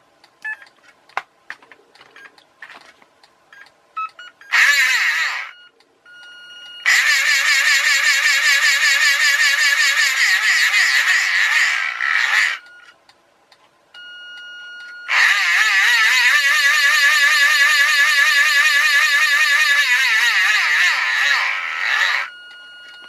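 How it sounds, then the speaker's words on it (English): Electronic speed controller and motor of a wooden F1 racer kit converted to RC, running on a 1S LiPo, emitting loud high-pitched whining bursts that start and stop, the longest lasting several seconds, with faint clicks between. "Be a bit of a high-pitched whine from the ESC."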